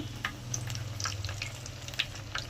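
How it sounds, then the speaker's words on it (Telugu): Masala vadas frying in hot oil while being turned one by one, a soft crackling sizzle with scattered pops and light scraping of a utensil, fairly quiet and close. "ఇప్పుడు ఒక్కోటి తిప్పుకుంటూ కాల్చుకోవాలి."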